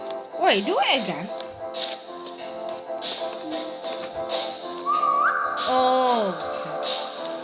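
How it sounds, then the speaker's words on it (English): A whistle in the horror video game 3008, set in an IKEA store, rises to a sustained tone, holds, then slides back down over a few seconds while a player speaks and reacts over game sounds. "What was that whistle?"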